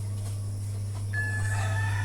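A rooster among caged native chickens begins a loud, drawn-out crow partway through, heard over a steady low mechanical hum.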